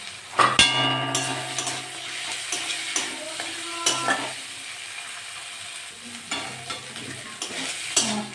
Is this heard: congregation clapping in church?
no